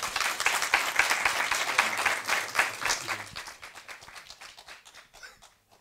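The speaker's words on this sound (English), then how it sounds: "Just a round of applause again for induna yethu." Audience applause at a catchment indaba, a crisp burst of many hands clapping together that holds steady for a few seconds, then thins out and fades to scattered claps.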